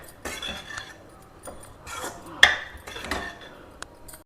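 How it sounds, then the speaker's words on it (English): A spoon stirs roasted cashew nuts into vella puttu, a sweet jaggery puttu, in a metal vessel, making soft intermittent scraping and clinking with one sharper clink in the middle, close by and without talk. "add it to the puttu. Mix everything well together"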